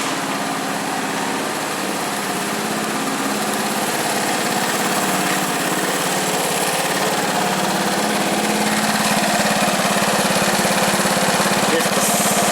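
A 1970s Honda ATC three-wheeler engine idles steadily and loud for the whole stretch, a constant chugging drone with light mechanical rattle and no breaks.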